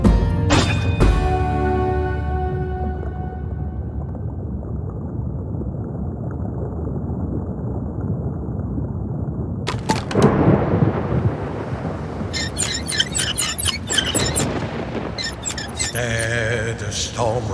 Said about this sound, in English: The storm right around me, the ocean going mad.